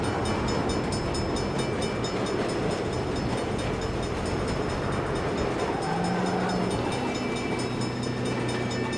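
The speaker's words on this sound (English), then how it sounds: "Bad time for a train." A train in the video game Saints Row rumbles past close by, its steady rolling roar and clatter running the whole time, with no talking over it.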